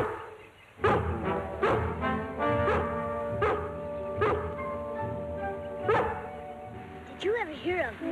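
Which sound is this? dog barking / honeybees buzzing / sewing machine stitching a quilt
dog barking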